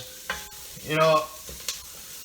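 Sausage and onions fry in a skillet with a faint, steady sizzle, broken by one short squeaky scrape of a utensil against the pan.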